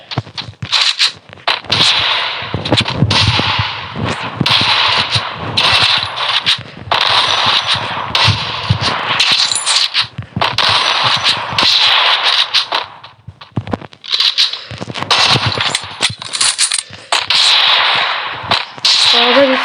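Rapid, loud gunfire bursts from the M10 EMP pump shotgun in Free Fire, repeated close blasts in clusters separated by brief pauses, no talking.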